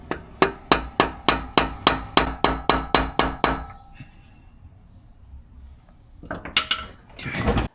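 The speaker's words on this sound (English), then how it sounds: "Then for the install, lightly tapping just to start it. Piece of wood." A socket is tapped with a hammer over a piece of wood to start installing an LS pilot bearing: about a dozen sharp, evenly spaced metallic knocks, close and clear, then quiet handling noises and a brief voice.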